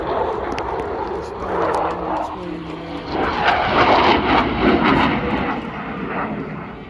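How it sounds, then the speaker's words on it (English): Eurofighter Typhoon jet performing a flying display at an air show, a loud, sustained, roaring engine rumble that swells and fades slightly as the aircraft passes, heard from the crowd. "The theater of the skies, Eurofighter Typhoon"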